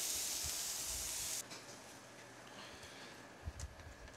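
Marinated beef sautéing in a hot pan for a Korean bibimbap dish gives a loud steady sizzling hiss that cuts off abruptly, followed by quiet clatter and faint sizzle.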